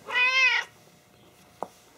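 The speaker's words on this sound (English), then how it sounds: "Noisy the cat is here because she has to be on every video when she's around, right?" House cat giving a single clear, drawn-out meow close to the microphone in a garage workshop, followed by quiet and one brief knock.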